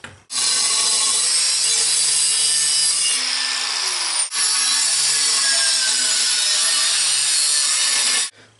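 Hand sawing through wood to cut out a ulu knife prototype and its long handle blank, a steady rasping back-and-forth stroke running loud and close with one brief pause midway.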